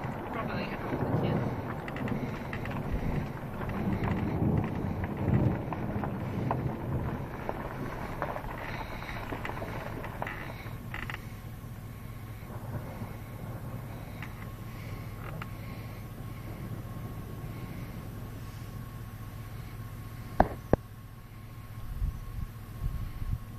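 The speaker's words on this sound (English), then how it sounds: "You can hear the rain starting to hit." Storm wind buffets the microphone with a steady roar as a tornado-producing storm approaches near Sandford, Indiana, with rain beginning to hit, a few sharp knocks late on, and voices talking through it.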